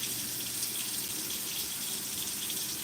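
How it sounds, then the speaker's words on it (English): Tap water runs steadily into a sink while someone washes their hands in a home kitchen, a constant close hiss without pauses and no talking. "I'm gonna wash my hands to help you."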